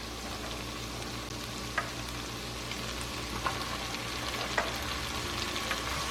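Beans frying in oil with garlic and a stock cube, a steady close sizzle throughout with a few soft scrapes and clicks of stirring.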